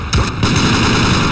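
A single loud, close gunshot boom in S.T.A.L.K.E.R.: Call of Chernobyl, its sharp blast followed by a long rumbling decay that fills the short moment.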